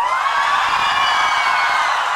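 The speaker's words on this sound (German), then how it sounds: "dann wirst du sehen, wie die Leute hier ausrasten und klatschen" A concert crowd cheers loudly and without a break for about two seconds, with a thick wash of whoops and shouting close by.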